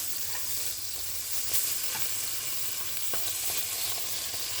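Butter frying in a pan gives a steady bright sizzle and crackle, close and even throughout with a few soft clicks and no talking.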